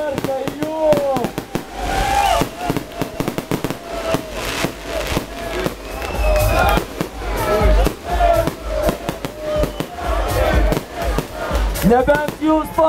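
Fireworks burst at a Lithuanian summer music festival in 2013, a rapid barrage of loud pops and crackles that rolls on throughout, with shouts and cheering from the crowd mixed in.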